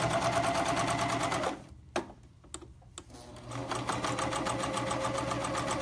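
Serger sewing machine stitching fabric for a pullover top: a loud, fast, steady mechanical whir that stops briefly for a couple of clicks and thumps, then starts up again and runs steadily.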